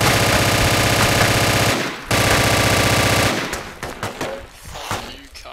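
A PPSh submachine gun in the video game Project Reality, firing two long, loud, rapid bursts close up with a brief gap between, followed by scattered distant shots and rattling.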